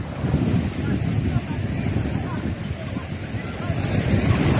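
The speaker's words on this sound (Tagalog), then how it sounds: "Maliit lang yung alon po natin ngayon." Steady rushing wind and surf fill the whole recording, with a low, constant roar of breaking waves and buffeting gusts against the microphone.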